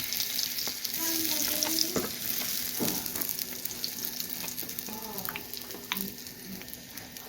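Homemade flatbread frying in a pan with butter and oil, a steady close sizzle with scraping and soft thumps as it is flipped; no talking.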